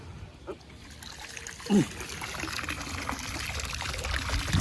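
Water trickles and pours as it drains out through a plain white cloth at a natural pond, a steady outdoor dribble that grows slightly louder over time, with a brief soft voice early on.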